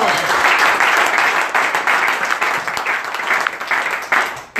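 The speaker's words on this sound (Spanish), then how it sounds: "Un aplauso al Señor" Dense, sustained applause from a church congregation fills the whole stretch, loud and steady with a slight dip near the end.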